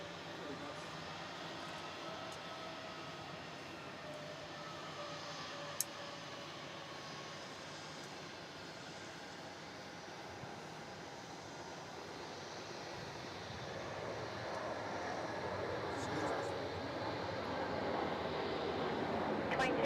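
Cathay Pacific freighter aircraft landing on runway 16 at Melbourne Airport, a steady distant jet roar that slowly swells louder over about twenty seconds, with faint background chatter.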